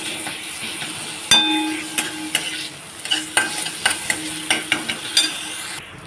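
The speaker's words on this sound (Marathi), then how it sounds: "आता हे सगळं छान तेलावर परतून झालं आहे" Ginger, garlic and mint paste sizzling in hot oil in a pan, with a constant frying hiss broken by a run of sharp spoon scrapes and clinks as it is stirred, close and clear.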